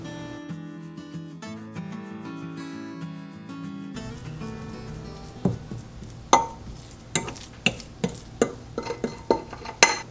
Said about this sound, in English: Got my crust all mixed up and ready to bake.